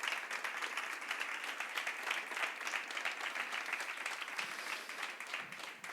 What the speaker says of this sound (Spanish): un aplauso para los adictos que están en recuperación también